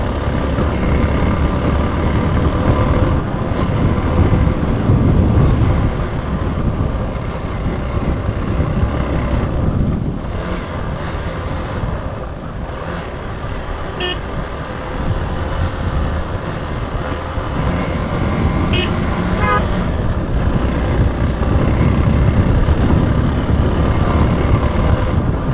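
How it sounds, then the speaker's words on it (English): Motorbike engine running steadily through a dusty natural trail, a continuous loud drone with wind buffeting the microphone and no talk, the engine note holding fairly even throughout. "A pure sound of bike in a nature"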